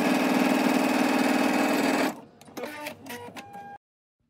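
Sewing machine stitching a garment seam, a steady fast mechanical whir for about two seconds, then stopping, followed by a few short clicks and handling sounds at close range.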